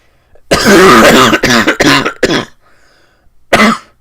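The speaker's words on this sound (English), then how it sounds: "Don't cough too hard, you're gonna throw up." A person coughs heavily and hoarsely up close, a long rasping fit followed by several sharp harsh bursts, then a short pause and one more loud cough.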